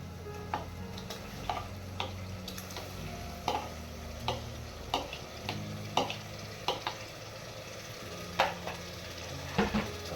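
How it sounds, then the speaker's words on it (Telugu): Soaked rice being stirred into prawn biryani in a pot, with a soft sizzle underneath and repeated sharp scraping and tapping of the spoon against the pot at irregular intervals. "ఒకసారి కలుపుదామండి."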